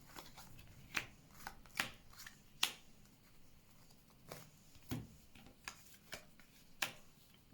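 Tarot cards shuffled by hand for a card draw: faint, irregular crisp snaps and riffles spaced across several seconds, close but quiet, with no speech.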